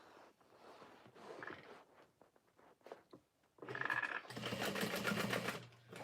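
Sewing machine top stitching the side connectors of a tote bag, with fabric handling and soft shuffling first, then the machine running loudly in a steady burst for about two seconds.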